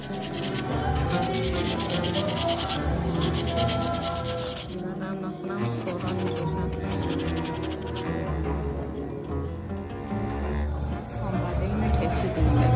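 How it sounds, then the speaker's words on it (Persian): Continuous rough scraping of sandpaper rubbing a hard pottery surface, with steady back-and-forth strokes, close up, while a voice talks over it. "قراره سطح سفالمون رو سنباده بزنیم"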